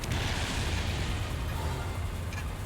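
Grenade cannon shots fired by a mech in Armored Core 3's arena, heavy booming blasts and explosions stacked densely over a low rumbling roar, loud and close, with no voices.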